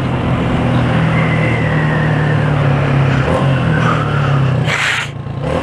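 A pizza delivery rider's motorcycle engine drones loudly and steadily up close, then briefly drops and stutters as a gear is missed before picking up again.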